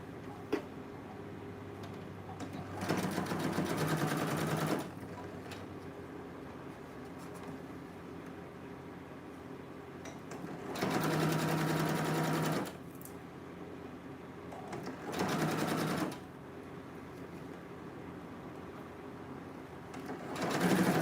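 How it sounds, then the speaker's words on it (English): Sewing machine stitching the facing of a dress, running in three separate bursts of rapid, even mechanical whirring, with quiet pauses and faint handling sounds in between. "So I'll be turning this over and stitch the facing."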